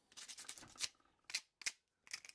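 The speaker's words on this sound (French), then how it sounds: "Un petit coup de papier vert. Donc là on nettoie les bavures, les contours." Brisk scratchy rubbing in short bursts, a green abrasive pad deburring the cut edge of a PVC tube, close up with brief pauses between strokes.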